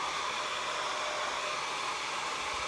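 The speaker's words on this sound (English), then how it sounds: "I just use a blow dryer" A blow dryer runs steadily, drying paste on a French farmhouse decor project; a constant airy whoosh holds at an even, moderate level with no voices.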